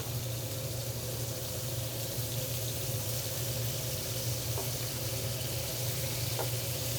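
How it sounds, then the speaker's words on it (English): A pork filet just flipped in a hot pan beside artichoke cooked with red wine, giving an even, continuous sizzle with a low steady hum beneath and a couple of faint clicks, no voices. "Flip the pork."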